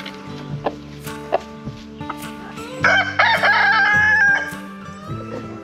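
Rooster crowing on a homestead, a loud drawn-out cock-a-doodle-doo rising in the middle, with scattered clucks and other barnyard fowl calls around it and no talk.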